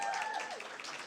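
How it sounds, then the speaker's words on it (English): Audience applause at a radio awards ceremony, a steady wash of many hands clapping together, fairly close and sustained for the whole moment with a faint whistle-like tone early on. "Can we get a round of applause for whoever made these awards?"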